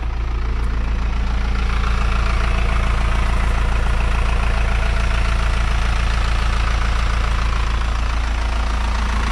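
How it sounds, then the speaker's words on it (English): An Isuzu NPR truck engine idles steadily, warmed up and running without leaks, a constant loud, low diesel drone with a faint knock, close by throughout and with no talking. "It's sounding really good. There's no leaks. It's warming up fine"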